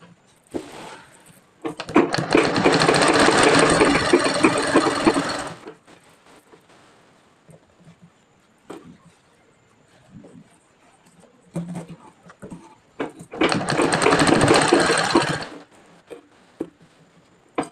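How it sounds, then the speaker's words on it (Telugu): A sewing machine stitches a frilled frock in two loud, close bursts of rapid whirring, each a few seconds long. Quiet handling clicks and fabric rustles fill the gaps between them. "కింది వరకు అయితే మనం కుట్టేసుకోవాలి"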